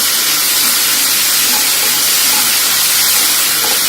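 Onions sauteing in a pan over a full flame while being stirred continuously: a loud, steady, dense sizzle and hiss fills the whole stretch with no talking.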